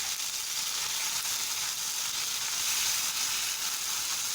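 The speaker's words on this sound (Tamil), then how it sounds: "இப்போ இஞ்சி பூண்டு சேர்த்தாச்சு. அதையும் சேர்த்து நல்லா வதக்கி விட்டுக்கலாம்." Ginger and garlic fry with mutton liver in a pan, a constant close hissing sizzle that holds steady throughout with no voices.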